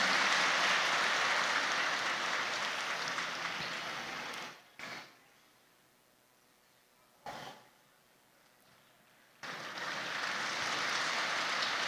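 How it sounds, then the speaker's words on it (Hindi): An audience at a welcome session applauds in a steady wash of clapping, which dips to near quiet around the middle with two short bursts before full applause returns. "आप खुले दिल से तालियां बजा सकते हैं"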